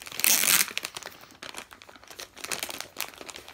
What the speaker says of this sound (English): Okay, this one's easier to unwrap.